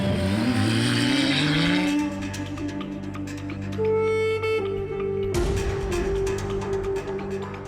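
Dacia Sandrider rally car driven hard on a long, special-stage-length run, its engine loud and close as it revs up, shifts through gears and accelerates steadily, with no talk over it.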